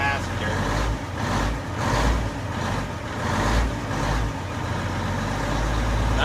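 A Mack R-611T truck with a 6-250 diesel engine runs at a low, steady idle with a deep rumbling throb, while someone talks over it.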